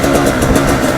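A KTM 300 EXC supermotard's two-stroke engine running close by, a loud, steady buzzing drone with rapid pulsing and no one speaking.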